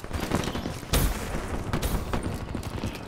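Rapid-fire shots from a modded 1911 pistol in a first-person shooter game, a dense, continuous burst of quick reports with one louder crack near the middle, heard close over background game noise.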